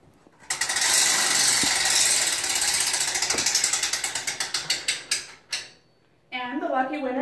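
A prize wheel spins with rapid ratcheting clicks that start fast and dense, then slow into spaced ticks until it stops, followed by a person speaking.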